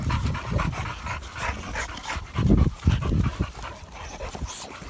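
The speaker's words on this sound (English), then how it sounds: "You look like a big old hound dog" Dogue de Bordeaux dogs from a pack on a farm pant heavily and rapidly close by, with breathy bursts growing louder midway and no voices.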